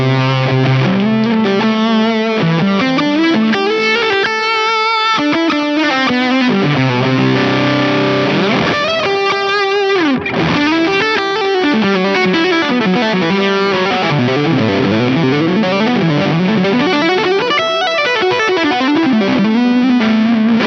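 Electric guitar run through a JHS Ross fuzz pedal in its modern mode, a loud, thick and saturated tone with heavy low end, playing continuous riffs and sustained chords alone for about twenty seconds.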